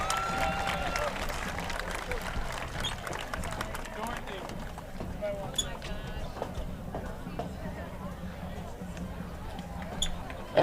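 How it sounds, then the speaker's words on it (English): Crowd applause rises in the stands at a high school football game during homecoming court recognition, a broad sustained wash of clapping mixed with crowd murmur and scattered thumps, with voices talking over it. "how about a big round of applause for all our court members"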